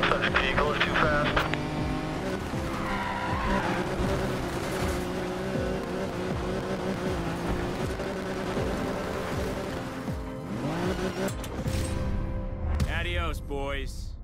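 A race car roars through a Need for Speed Payback pursuit, its engine droning loud and continuous while tires squeal and revs sweep up and down.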